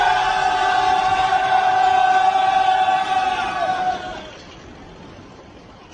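A company of soldiers lets out a loud, sustained massed battle cry, many voices holding a steady shout for a few seconds before fading to quiet.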